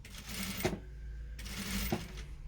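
A sewing machine stitches bias binding onto a robe in two quick runs of rapid mechanical clatter separated by a short pause, close and moderately quiet.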